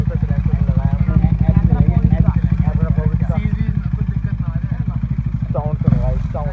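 A KTM Duke 250 motorcycle fitted with a second silencer idles with a steady, throbbing pulse close by, the engine note running continuously under people chatting.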